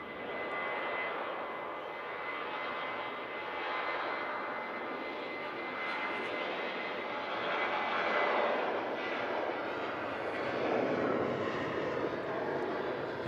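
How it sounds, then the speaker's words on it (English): A Qatar Airways Airbus A330neo jet taxies and lines up on a runway at Manchester Airport, its engines giving a steady, broad whine and rumble that swells slightly, heard from a distance without any talk. "You have a very beautiful Q8 A330neo on a taxi out though"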